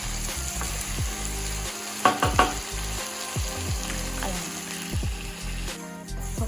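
Lentils roast in a pan until golden brown for sunnundalu, with rice stirred in. A close, busy crackle runs under repeated scraping stirs and a few louder knocks.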